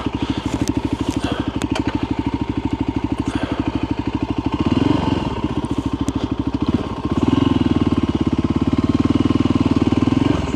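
A motorcycle engine idles and putters close by with a steady rapid pulse, briefly revving and shifting as the bike is maneuvered into a parking spot on a trail in Spain.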